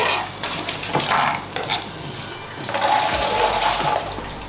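Onion and garlic sizzling in olive oil in a pan, a steady close frying hiss with intermittent stirring scrapes and clatters across several seconds.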